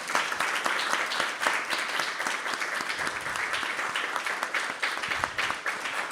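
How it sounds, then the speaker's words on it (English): Steady, dense clapping from an audience at a Krishna Katha gathering in a temple hall, loud and close, continuing evenly for several seconds. "and you can clap too."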